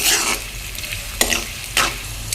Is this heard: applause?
no